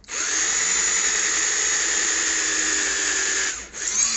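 A power drill bores into a pool cue ball, giving a loud steady high whine for several seconds that briefly dips and then picks up again.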